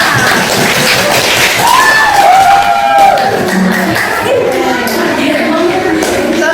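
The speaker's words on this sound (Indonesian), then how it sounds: "Tepuk tangan." A group in a university classroom applauds, loud close clapping with thumps and taps forming a continuous dense wash, and voices mixed in faintly.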